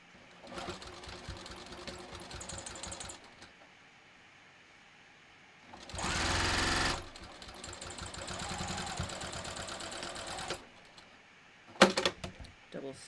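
A sewing machine double stitches a leather wallet in several bursts of rapid mechanical clatter, separated by pauses, with a louder whirring stretch in the middle and brief handling knocks near the end.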